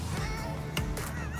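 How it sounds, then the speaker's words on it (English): A duck gives honking, goose-like calls, a few short quacks over steady background noise, moderately near. "What a fun little duck."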